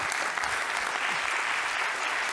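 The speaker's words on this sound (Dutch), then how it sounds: "geef haar een hartelijk applaus" An audience at a Dutch talk on doom thinkers and optimists claps warmly for a speaker being introduced, a dense, even wash of applause heard on its own.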